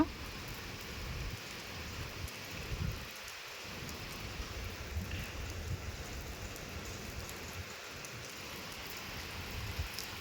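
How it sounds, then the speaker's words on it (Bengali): Steady rain falling under an overcast sky after a spell of intense heat, a constant even hiss of drops with no voices. "আল্লাহর রহমতে বৃষ্টি হচ্ছে"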